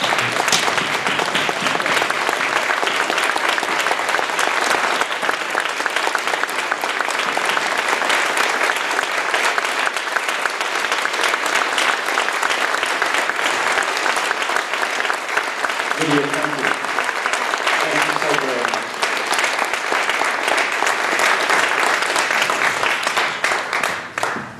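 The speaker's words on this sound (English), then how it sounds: "could you just quickly rise and give her a round of applause?" A memorial gathering's audience rises and gives a long, sustained round of applause, dense clapping from many hands holding steady and loud, with a few brief voices surfacing partway through.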